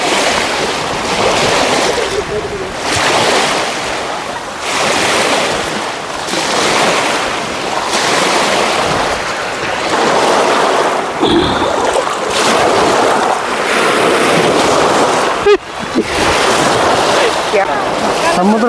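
Waves surge and wash repeatedly at the full KRS dam backwater, a loud rhythmic swell every couple of seconds, close by, with wind and faint voices mixed in.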